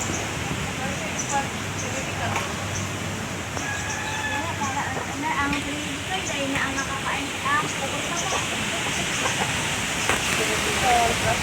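Mother hens clucking in short, scattered calls over a steady background hiss, with people talking at times.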